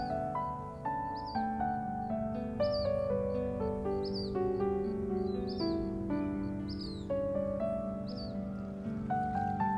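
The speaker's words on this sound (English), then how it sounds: "the morning birds" Morning birds chirp repeatedly in a peaceful natural setting near water, with short clear tweets recurring at steady intervals over soft layered tones and a faint low background rumble.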